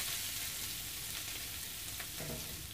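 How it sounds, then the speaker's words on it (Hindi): Chopped onions frying in about 100 ml of hot oil in a pan for Hyderabadi dum keema, a steady loud sizzle and crackle throughout with faint stirring near the end. "और ओनियन को फ्राई करना है गोल्डन ब्राउन होने तक"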